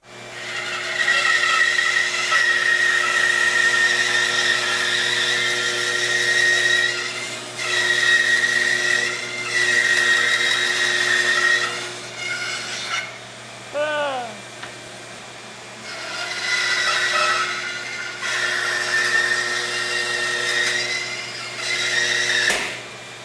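Power saw resawing construction lumber boards in half, a loud sustained whine in several long passes separated by brief drops, with a higher mechanical tone riding over a steady motor hum.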